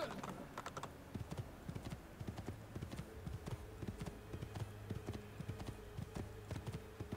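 Rhythmic hoofbeats of a horse galloping in Assassin's Creed 2, a quick steady clip-clop rhythm repeating throughout, fairly faint and without speech.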